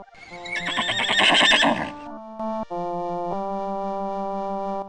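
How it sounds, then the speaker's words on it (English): Horse neighing in the MS-DOS Kids Zoo: A Baby Animal Adventure game: one loud, close whinny of about two seconds, followed by steady synthesized musical tones. "A horse goes."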